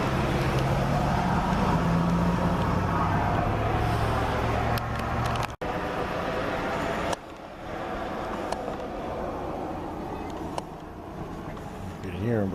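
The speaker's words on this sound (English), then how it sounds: "I'm seeing no small amount of traffic tonight." Road traffic passing at night after midnight, a steady broadband roar of vehicles going by nearby, with a louder pass early on, then continuing rumble and occasional quieter lulls; someone talks over it.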